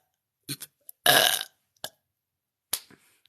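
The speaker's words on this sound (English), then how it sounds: "There, I burped on command." A girl lets out a few short burps, including one long, loud, rasping belch in the middle, with brief silent gaps between the bursts.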